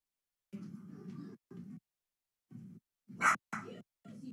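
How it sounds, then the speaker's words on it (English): A pet dog at home gives a short series of barks and yips in separate bursts, close and fairly quiet, with one sharper, brighter bark near the end. "No, no, don't bark anymore. Good girl."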